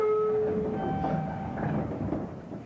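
A local train on the Nippō Main Line bound for Miyakonojō pulls away from a station, heard from inside as a low rumble with faint tonal whine and soft rail clatter, steady and moderately quiet.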